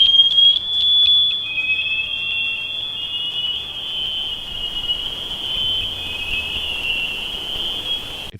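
A mysterious underwater ping recorded in the Arctic Ocean, a sustained high, piercing electronic-like tone that wavers slightly and holds steady over faint low background noise.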